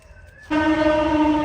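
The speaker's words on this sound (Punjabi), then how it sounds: "ਟ੍ਰੇਨ ਆ ਗਈ ਟ੍ਰੇਨ" An arriving train's horn blares suddenly and holds a loud, steady tone over low rumbling, after a quieter moment of background noise.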